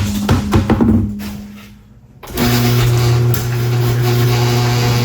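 A 1978 Dodge D150 pickup that sat for twenty years, in a garage, cranks unevenly and then goes quiet for a moment. It then catches and settles into a loud, steady, droning idle.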